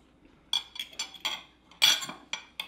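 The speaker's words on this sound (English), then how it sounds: "let's go ahead and slice into this dry aged steak" A knife working through a homemade dry-aged steak on a plate or board, a series of crisp metallic clinks and scrapes in quick irregular strokes, close and fairly loud.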